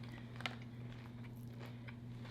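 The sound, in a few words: crunchy bite being chewed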